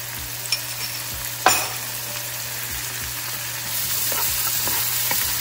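Onion and garlic sizzle in oil in a pan, a steady soft frying hiss broken by a few scrapes and stirs, with no talking.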